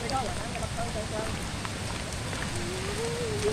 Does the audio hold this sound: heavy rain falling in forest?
yes